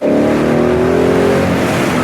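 Loud, close Ford Mustang 5-liter V8 revving hard and alone, a sustained deep roar that holds steady throughout the short burst.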